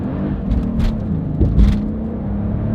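Onboard a V12 Mercedes accelerating hard: a loud, close, sustained engine drone with rising whir and rumble, steady throughout with no talk over it.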